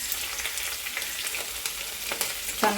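Green chillies and finely chopped ginger fry in hot oil for an upma premix, giving a close, steady crackling sizzle with light stirring scrapes, and nobody speaks.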